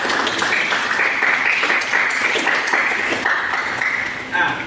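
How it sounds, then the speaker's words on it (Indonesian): A class of students claps for the first group, a sustained round of applause that holds steady and then tapers off near the end. "Ya, kita berikan aplaus buat kelompok 1."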